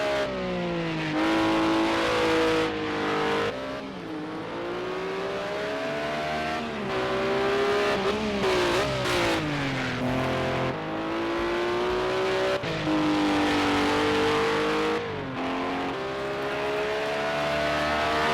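Race cars roar around the Brno circuit in the Project Cars 2 racing video game, a loud continuous engine drone with rising and falling revs as gears shift, steady throughout with no voices.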